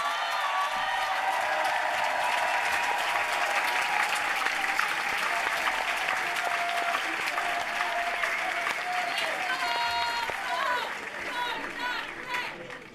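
Sustained, dense applause from a large crowd at a political meeting against war and the far right, steady and loud throughout with faint voices mixed in.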